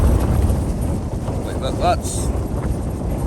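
Strong, roaring wind gusting above 40 mph buffets a tent at a mountain summit camp steadily throughout, with a brief voice near the middle under the constant rushing noise.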